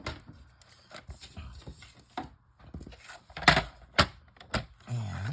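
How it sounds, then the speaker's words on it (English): A sheet of cardstock being cut gives sparse, irregular dry snips and sharp taps at close range, a few louder clicks near the end, with no talking. "we're going to start with a piece of cardstock,"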